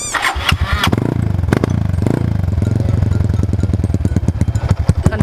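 A motorcycle engine, still cold, blips and revs hard through the exhaust, loud and close, then settles into a rough, pulsing idle with repeated throttle stabs.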